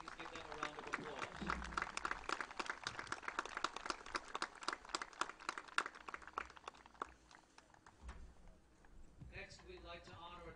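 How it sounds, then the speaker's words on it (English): A crowd claps steadily at a high school football game as seniors are honored, a dense, sustained patter that thins out near the end, with voices mixed in. "Please give them a round of applause."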